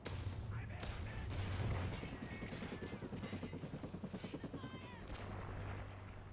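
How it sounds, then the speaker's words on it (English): A helicopter flies in a shooter video game, its rotor making a rapid rhythmic chop beneath a clatter of gunfire and thumping blasts, with voices talking over the action. "Helicopter getting some kills."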